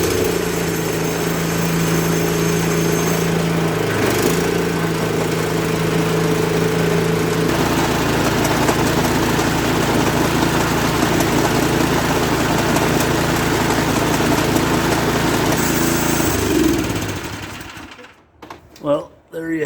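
A snowblower engine runs steadily at a loud, even idle while it pumps air into a tank, its tone holding for most of the span before cutting off and sputtering into near silence at the end.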